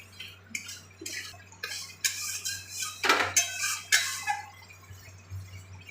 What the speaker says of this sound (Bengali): মশলাটা ভালোভাবে কষিয়ে দিচ্ছি।